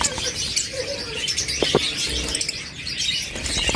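Pet budgerigars, including a creamino and a violet opaline, chirping and twittering up close in a busy, continuous chorus, with a few sharper calls standing out.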